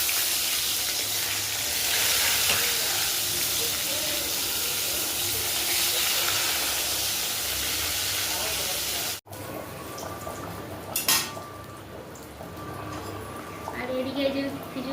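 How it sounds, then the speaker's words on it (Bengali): Salted eggplant frying in oil in a wok, a dense steady sizzling hiss that fills the first nine seconds, then after a cut quieter crackling and spitting continues with faint kitchen clatter. "তেলের মধ্যে বেগুনটা ভাজা করে নিই।"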